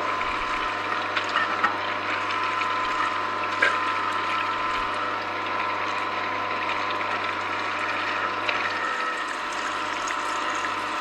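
An Angel twin-gear slow juicer presses oranges, giving a continuous mechanical grinding hum with faint ratcheting clicks and trickling, close and steady throughout with no talk.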